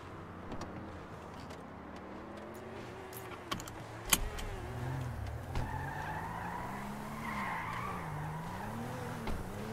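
Car in the GTA RP video game skidding and driving, tires squealing in wavering arcs over a steady engine rumble, with a few sharp clicks and knocks, no talking.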